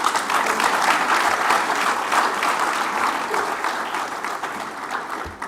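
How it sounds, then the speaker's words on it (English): Sustained applause from an audience at a formal Commonwealth gathering, honoring a Foreign Minister; dense, steady clapping that holds loud throughout and tapers slightly near the end. "I think our Foreign Minister deserves yet another round of applause."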